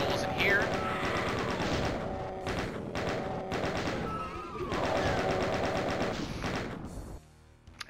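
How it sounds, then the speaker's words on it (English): The Doom 2 chaingun fires in rapid bursts of rattling shots, loud and close, mixed with monster screeches and thuds, while a voice talks over the gameplay until the firing stops near the end. "let's use the chain gun to take out Lost Souls in here."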